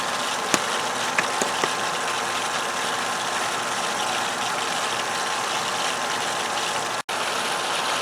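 An XtremePowerUS sand filter pump on an above-ground pool runs on the rinse setting with a steady, loud motor drone. A few faint clicks occur early, and the sound drops out briefly near the end.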